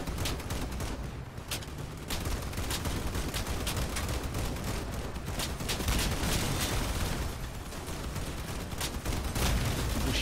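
Relentless cannon and gunfire in the vehicle combat game Crossout, rapid overlapping shots and booms forming a loud, continuous barrage with bursts of sharper blasts.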